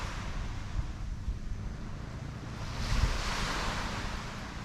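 Waves wash onto the beach at Klong Kloi on Koh Chang in a faint, steady surf hiss with some wind, rising into a slightly stronger swell near the end.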